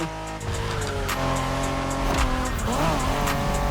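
A Honda NSX sports car engine in a racing video game roars loudly and steadily at high revs, its pitch shifting up and down as it accelerates, with a brief tire squeal.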